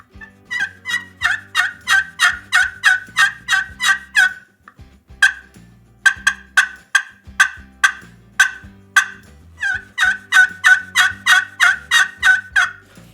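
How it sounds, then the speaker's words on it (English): A striker rubbed across a slate or glass friction turkey call produces quick runs of close, sharp yelps and clucks in rhythmic bursts, with a short pause midway, loud and without talk. "the friction of the striker going back and forth on that surface is what's going to make that sound"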